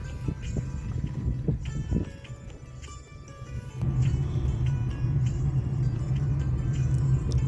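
A dumper truck reverses on a narrow single-lane road, its engine a deep, steady rumble that dips briefly and then grows louder and heavier, with a few knocks early on.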